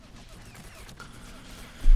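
An explosion in the WWII strategy game Men of War: Assault Squad 2 gives a sustained, crackling broadband roar with a rumbling low end, then swells into a louder burst at the very end.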